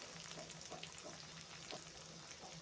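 Beef pieces sizzle in a hot pan with ginger-garlic paste for a beef and potato stir-fry, a soft steady frying hiss broken by faint light pops and taps, quiet and without voices.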